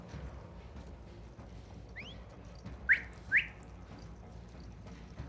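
Short rising whistles in The Last of Us Part II, a few quick chirps spaced about a second apart over a low background rumble.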